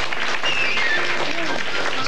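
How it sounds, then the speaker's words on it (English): Audience applause at a 1979-1980 high school quiz show between Morgan City High School and St. Martin's Episcopal School, a steady wash of clapping throughout with a voice talking over it. "It's applause for you guys."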